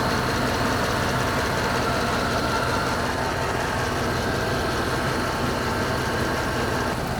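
A rebuilt 6.0-litre LS V8 car engine idles steadily and evenly on first start, a continuous low rumble with a faint rhythmic pulse, close and constant throughout.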